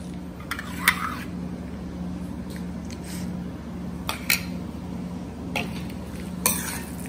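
Curd rice being mixed with yogurt in a bowl, a soft squelching stir under a steady low hum, with a few sharp spoon clinks against the bowl at irregular moments.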